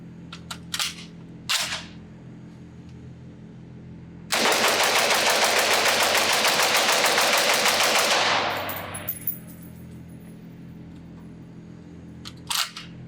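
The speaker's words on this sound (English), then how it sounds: "I want to do a mag dump through this just because honestly it's kind of fun" A Vector Arms V53, a roller-delayed HK53 clone in 5.56mm, fires a rapid semi-automatic magazine dump at a range: a loud, dense burst of shots for about four seconds, with a few isolated bangs before and after.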